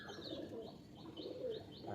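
Tournament pigeons offered for sale at a loft in Sankrail, Howrah, give soft low cooing close by, several short rolling coos mixed with faint high chirps over a quiet background.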